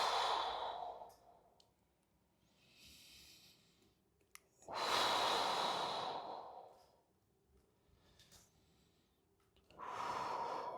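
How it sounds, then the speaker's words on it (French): Three forceful exhalations during a mobility and stretching workout for cyclists, each a breathy whoosh of a couple of seconds separated by quiet pauses, close to the microphone. "Je souffle 3 fois."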